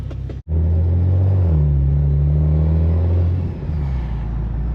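A BMW E92 engine with a T51 Armada turbo rumbles low and steady close by, with a deep idle that swells briefly as it revs, then settles back.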